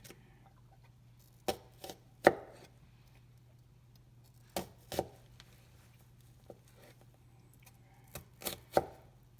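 A knife cuts through an onion on a board, with sharp single chops and short pairs spaced by quiet pauses, close and clear.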